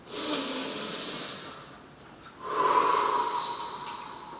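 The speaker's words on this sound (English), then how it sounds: "take a deep breath" A person takes a slow, deep breath close to the microphone, a long airy inhale that fades, then a second stronger breath after a short pause.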